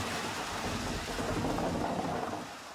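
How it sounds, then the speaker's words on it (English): Thunder as a sound effect with a heavy rainstorm: a dense, continuous rumble over driving rain that eases slightly at the end, with no voices. "and menacing thunder"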